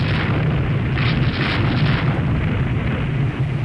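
Naval shell hits and explosions in the warship combat game Rule the Waves 3, a dense, loud rumbling barrage of blasts and booms rolling continuously with no pauses.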